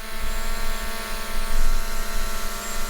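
A DJI Air 2S drone flying, a steady high-pitched whirring buzz with a strong tonal hum that swells slightly midway, loud and close throughout, with no speech.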